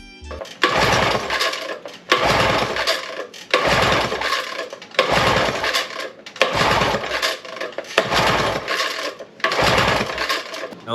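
A Yamaha 25 outboard engine cranks during a compression test in repeated bursts of roughly a second each, about seven of them, separated by short pauses. The sound is loud and close.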